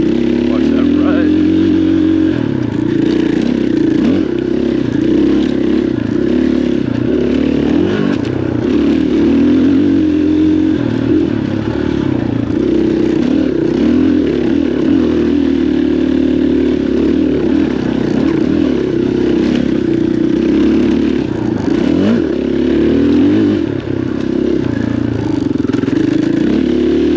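Off-road motorcycle ridden along an OHV trail at Stonyford, engine droning loud and continuous near the rider with clattering and scraping over rough ground, and voices talk over it.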